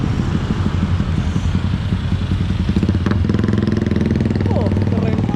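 A motorcycle engine runs close by on a busy street in Tiban, Batam, with a steady, loud, rapid chugging throb throughout and brief rattling accents near the end.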